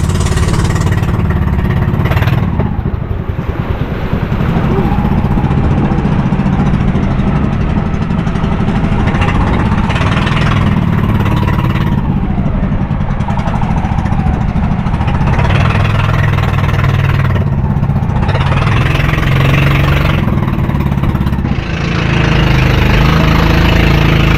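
A bangka outrigger boat engine drones loudly and continuously in big waves off Camiguin island, with rough low rumbling and splashing wash layered over it.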